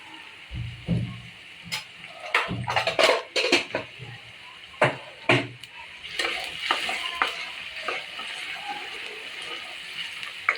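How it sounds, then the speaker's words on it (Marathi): A spoon stirs turmeric and spices in a metal cooking pot for sukka mutton, giving repeated clanks and scrapes against the pot over a soft steady sizzle. "व्यवस्थित सगळं ढवळून घ्यायचं आहे"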